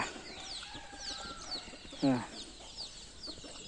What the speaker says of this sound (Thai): ก็ไก่ก็แตกเซลล์ครับ เยอะแยะเลยครับไก่